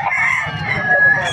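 A rooster crows at the Bocaue pet market in the Philippines, one drawn-out crow heard close over a low background murmur of the market.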